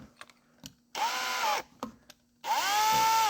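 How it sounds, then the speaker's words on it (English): A power drill spins an engine valve during valve reseating on a 5.2/5.9 engine, giving two short, close whirring bursts separated by light clicks and handling noises. "just spin it with the drill"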